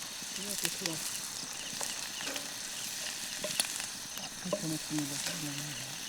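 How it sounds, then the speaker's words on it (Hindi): Onions frying in a pan over a campfire in gloomy forest weather, a steady close sizzle with occasional stirring scrapes, while people talk over it. "ऐसे भी प्याज का तो थोड़ा कलर आना ही है, तब तक फ्राई करना है।"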